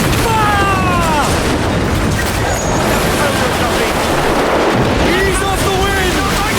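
Ship cannons fire in Assassin's Creed Black Flag, dull booming blasts among wind, sea noise and shouted commands, dense and loud throughout.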